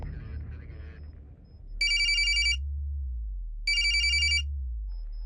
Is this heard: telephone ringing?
yes